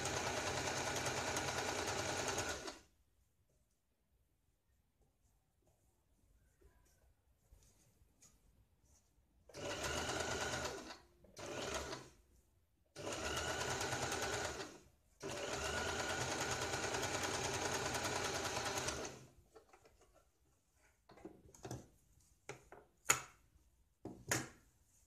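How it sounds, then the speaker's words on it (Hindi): Electric sewing machine stitching a double seam on a blouse, running in loud steady whirring bursts separated by quiet pauses, with faint handling clicks near the end and no talking. "अब इसके ऊपर हम डबल सिलाई लगाते हैं।"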